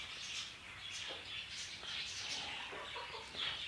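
Native country chickens and chicks on a poultry farm give soft, continuous clucks and chirps, faint and somewhat distant, with no talk.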